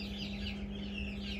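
Newly hatched white silkie chicks peep and chirp continuously in a busy, overlapping chorus, close by, over a steady low hum.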